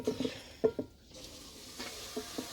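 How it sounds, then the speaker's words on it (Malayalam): Jackfruit and chicken curry being stirred in a pan, soft scraping stirs and light sizzling with a few clinks of the utensil, quiet and close. "നല്ലപോലെ ഇളക്കണേ"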